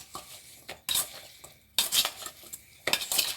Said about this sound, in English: we're going to give that a good stir so that all of the squash pieces can get a little bit of that butter and cinnamon on them